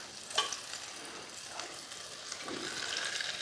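Pork chops browning in a hot pan give off a soft, steady sizzle, fairly close, with a few brief clatters near the start and no talking.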